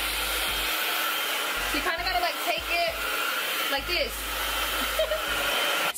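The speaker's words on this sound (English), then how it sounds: "I'm gonna take my blow dryer." A handheld blow dryer roars steadily throughout while drying thick hair on a lace frontal wig before straightening. Someone talks briefly over the constant whooshing hum.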